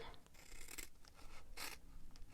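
Quiet, close scissors snipping through paper in a few short crisp cuts, with soft rustling between them.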